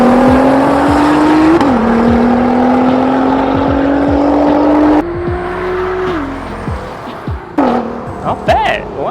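A BYD Seal electric car drag races a Nissan GT-R R35: a loud, steadily climbing drivetrain note with a couple of distinct shift steps, easing off toward the end amid a few brief higher chirps.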